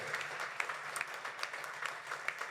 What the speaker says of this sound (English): you, our beautiful Anodyne audience, give yourselves a big round of applause